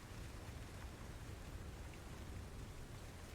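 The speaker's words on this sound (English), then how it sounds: "And then you hear the rain get lighter." Steady, faint rain falls in a soft even hiss with low rumble, continuous and without talk.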